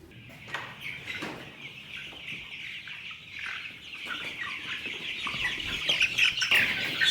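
Chickens cluck and squawk nearby, a busy flock growing louder and more agitated toward the end, with no talking.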